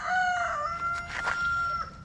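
A speckled hen or rooster with black-spotted, ink-blot plumage gives a drawn-out, crowing cluck close by, loud and alone with no talk.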